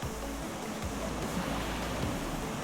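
Waves break steadily against a deserted beach in New Zealand's Far North, a continuous wash of surf rolling in with no voices.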